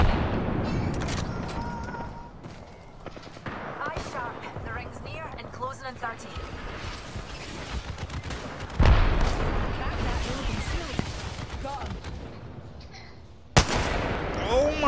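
Gunfire from a battle-royale shooter video game crackles in bursts over about fifteen seconds, with a sharp loud report near the end, under continuous game sounds and a player talking.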